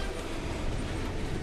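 A train rumbles past in the video game Final Fantasy VII Remake, a dense, loud, continuous roar of rolling wheels and rail noise filling the short stretch without pause.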